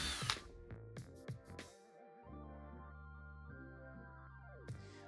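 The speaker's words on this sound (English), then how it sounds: "I then drilled 4 3/8-inch holes where the upper line intersects with the 4 vertical lines" A power drill boring 3/8-inch holes into a metal coupler, heard as a few quick stuttering bursts followed by a steady whining run at close range, quiet overall with no talking.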